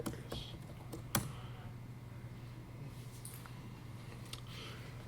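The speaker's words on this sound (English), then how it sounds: "I'm like typing in all caps." Quiet keystrokes tap on a computer keyboard in loose, uneven bursts with a few sharper clicks, close by, over a low steady hum, while someone talks.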